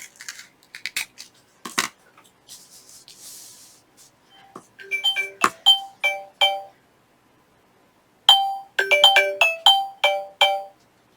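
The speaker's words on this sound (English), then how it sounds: "And that was my phone ringing." A mobile phone ringtone plays bright, chiming tones in quick repeated bursts, each ringing phrase rising and falling, with a pause between rounds after some clicks and rustling of crafting work.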